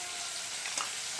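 Rui fish frying in oil in a pan, a close, steady dense sizzle with faint crackles and no talking.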